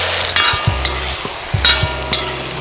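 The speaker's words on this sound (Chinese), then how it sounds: "翻炒几下。" Kung pao shrimp balls are stir-fried in a wok, with a steady sizzle and repeated scraping and tossing strokes of a spatula that come every half second or so, close and fairly loud.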